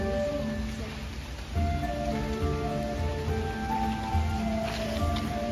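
Rain falls steadily in a château museum garden in France, a soft continuous patter of drops that swells slightly after the opening second, with no voices.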